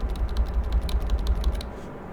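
Rapid clicking keystrokes on a wireless computer keyboard during a game, fairly close and steady, with a low rumble underneath and no talking.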